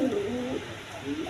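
Pigeons coo softly and steadily at a pigeon market where breeding pairs are sold, a low rolling call close by under general background noise.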